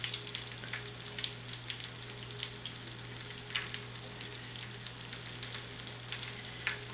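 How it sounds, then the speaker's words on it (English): Oysters and shrimp frying in deep oil in a cast iron pan, a steady dense sizzle with fine crackles and pops throughout, fairly quiet and continuous, with no voices. "So we've got a really good sizzle going here."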